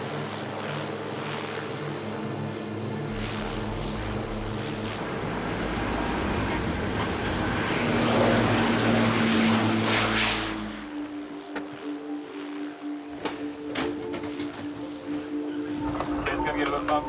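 Steady propeller drone and cabin rumble fill a life flight plane in the air, a loud continuous hum that swells then eases, with people talking over it.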